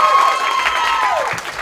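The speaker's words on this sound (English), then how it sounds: "Big applause for Nicole!" A stand-up comedy audience breaks into loud, close applause with some crowd cheering mixed in, a short dense burst of clapping.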